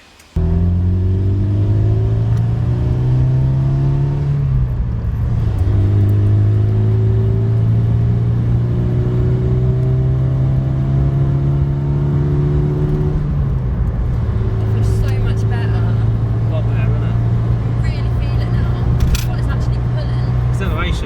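An engine in a Ford Sierra with a newly refurbished carburettor drones loudly from inside the moving car, its pitch climbing through gears with shifts in between, steady road rumble underneath.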